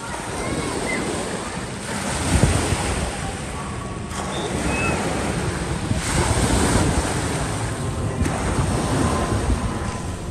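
Artificial waves surge steadily in a man-made sea pool at a Hurghada hotel, a continuous wash of surf with swelling pulses every few seconds, mixed with wind buffeting the microphone.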